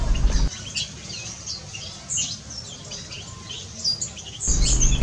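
A wild bird from Sukabumi gives repeated short chirps and squeaky calls, thin and fairly close, scattered in quick bursts over faint background noise, with louder noise at the start and end.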